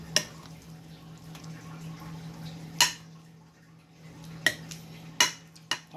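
A utensil stirring a mayo mixture in a bowl, soft scraping under a low hum, with a few sharp clinks against the dish.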